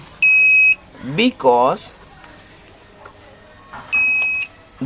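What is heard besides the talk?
water tank motor controller beeping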